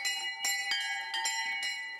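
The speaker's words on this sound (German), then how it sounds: "Wenn die Glocken klingen" Church bells ring from a homemade bell frame built by a teenager: a steady, bright peal with overlapping strikes roughly every quarter to half second, close and fairly loud, with no voices.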